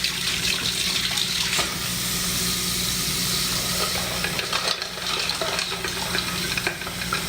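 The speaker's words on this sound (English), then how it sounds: "So I have my pot here full of ice, and add some cold water." Cold water pours into a pot full of ice, a steady continuous rushing splash with ice rattling and clinking, close and fairly loud throughout with no talking.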